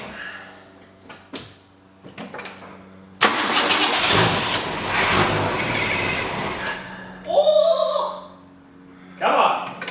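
A car engine cranking and trying to fire before a first drive, with bursts of loud broadband cranking noise between quieter pauses and clicks, and a brief sharp sound near the end; a voice speaks briefly early on.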